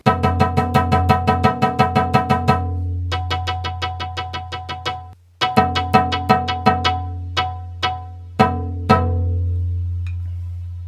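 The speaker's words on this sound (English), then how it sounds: "This is a simple percussive sound." Plucked, percussive electronic tones from a Mutable Instruments Rings modular synthesizer module triggered by a TAIKO-1 ring out in a steady rhythmic pattern, each note decaying quickly, with a few short pauses between phrases.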